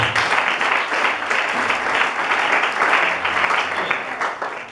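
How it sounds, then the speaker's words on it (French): A church congregation applauds to acclaim the Lord during a sermon on marriage, with dense, steady clapping from many hands filling the room for several seconds and no talk over it. "Est-ce qu'on peut bien acclamer le Seigneur?"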